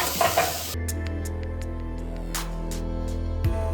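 Cut tomatoes sautéing with onions in a pan for a vegetable gravy, an opening burst of sizzling followed by a steady frying hiss with light stirring clinks.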